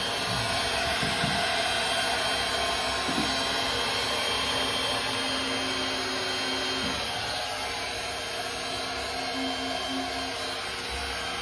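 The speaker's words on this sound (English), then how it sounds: "Right, so we've got the heat gun." A heat gun blows a steady, loud rushing roar for the full length, with a faint low hum beneath and no speech.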